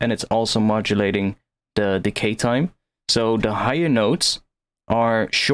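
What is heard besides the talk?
None of the usual background noises is heard.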